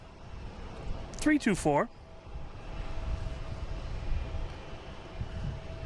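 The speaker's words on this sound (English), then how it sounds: "All right, Delta heading to Seattle on A321neo, flight" After a brief spoken number, a Delta Airbus A321neo jet airliner bound for Seattle at Boston Logan rumbles low and fairly distant. The rumble swells gently and lingers to the end.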